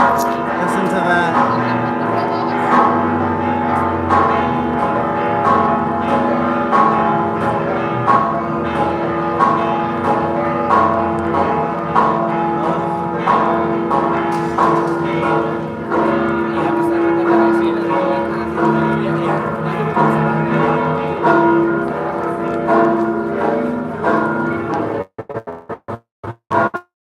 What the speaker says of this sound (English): That's where the church bells are coming from.